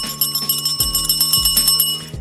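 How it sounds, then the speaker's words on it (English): A bell rung repeatedly in quick succession on a wrestling-games podcast, a bright metallic ringing struck about every third of a second over a low rhythmic music bed, loud and close. "Ring the bell."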